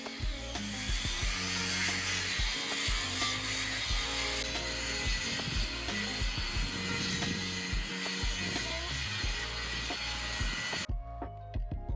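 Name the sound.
angle grinder sanding steel with resin disc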